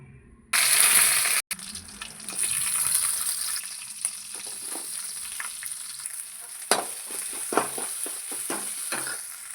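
Carrot, green chillies, capsicum and onion with cinnamon and cloves hit hot oil for tempering, bursting into a loud, steady sizzle with scraping stirs and sharp clatters, a short break early on.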